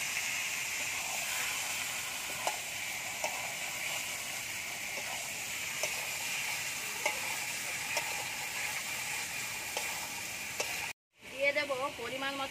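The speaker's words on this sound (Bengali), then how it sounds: "মশলা কষানো হয়ে গেছে, এবার মাংসটা দিয়ে দেবো।" Mutton frying in a spice paste, a continuous close hiss and sizzle with occasional stirring taps, ending in a brief drop before a voice speaks over it.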